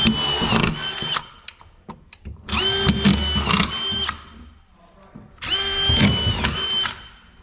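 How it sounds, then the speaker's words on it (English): A DeWalt brushless collated screwdriver drives screws into plasterboard in three loud, close whirring bursts with quiet gaps between them. "I am just going to pull the trigger and drive the screw in"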